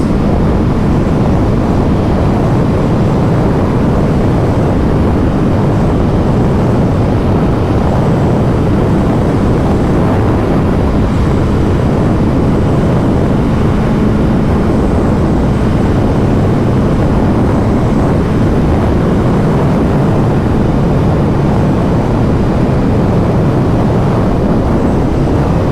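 A 2023 Honda CBR1000RR-R Fireblade SP on the move produces a loud, continuous roar of engine and wind rush that stays dense and unbroken throughout, with no voices.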